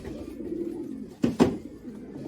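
Pigeons coo in a loft, a low throaty murmur close by, with two louder coos standing out near the middle of the short stretch.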